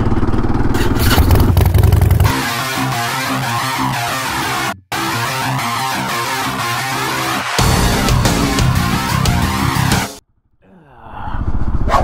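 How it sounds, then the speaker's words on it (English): A 2022 Kawasaki KLR 650 rides along a gravel road, with a loud, continuous engine drone and wind rush heard close up. The sound drops out briefly partway through and again near the end. "we're on our KLR today, and like I said, we're going to do a little bit of gravel road driving"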